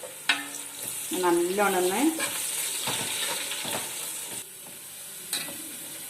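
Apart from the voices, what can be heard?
cinnamon, cardamom, cloves and curry leaves frying in ghee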